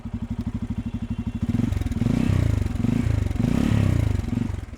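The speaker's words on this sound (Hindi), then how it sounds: "अभी मैं आपको एग्जस्ट का साउंड सुनाता हूँ" A Bajaj Pulsar N250 motorcycle, four years old, thumps at a steady idle through its exhaust, then revs up in several loud, rising bursts that ease back between throttle blips, close to the microphone.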